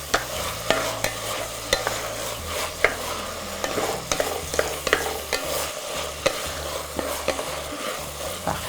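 Garlic sautéing in a pan sizzles steadily, close up, while a utensil stirs and taps against the pan in regular clicks, with no voices.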